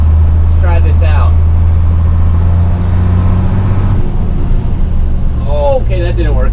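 Engine of an abandoned 1981 International truck rumbling loud and close, its note shifting as gears are floated from first to second, with someone talking over the start and end.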